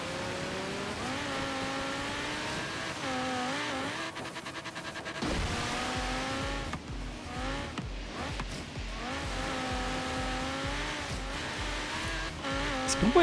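An Audi R8 V10 5.2 races in Forza Horizon 3, its engine droning steadily with rising and falling revs, gear shifts and brief tire squeals, loud and continuous throughout with no talking.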